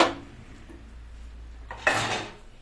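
Cooked rice and lentils being stirred in a pot, soft scraping of a utensil followed by a louder metallic clatter against the pot near the end, close and without talk.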